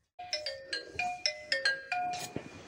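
A phone ringtone for an incoming video call plays alone as a bright melodic chime, about ten quick repeating tones in a rhythmic pattern, fairly close and clear.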